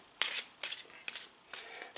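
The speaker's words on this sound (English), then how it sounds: "let's do a shuffle, shuffle, shuffle" Tarot cards being shuffled in a few quick bursts, four or five short riffling rustles spaced about half a second apart, close and fairly quiet.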